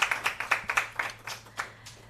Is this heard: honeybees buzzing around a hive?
no